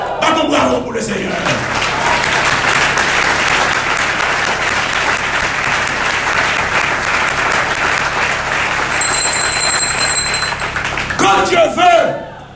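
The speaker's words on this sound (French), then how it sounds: "Battons bravo pour le Seigneur." A church congregation applauds for the Lord, dense, loud, steady clapping that fills the room for about ten seconds, mixed with some cheering voices, then fades as a voice returns at the end.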